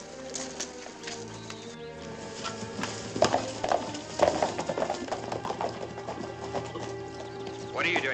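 Cavalry horses walking in a 1950 Western film, hooves clip-clopping in an uneven steady rhythm under a music score and men's spoken dialogue, moderately close but partly masked.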